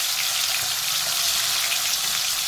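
Cumin seeds, tomatoes, garlic and green chillies sizzle steadily in hot oil for a chana dal and spinach sabzi, a dense, even crackle with no voices.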